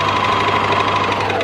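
A sewing machine stitching a stretch neckband onto a dress, running in a steady, continuous rapid whir with a fast mechanical rhythm, close and fairly loud throughout.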